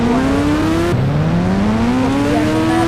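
A motorbike close by revs hard, its engine pitch climbing, dropping sharply at a gear change, then rising again in a loud continuous whine with no talking over it.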